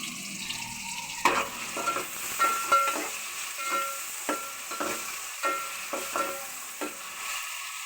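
Onions fry for the curry gravy of a bell pepper and potato salan, with a soft sizzle under a series of distinct utensil clinks and stirring knocks at an irregular rhythm, close, with no talk.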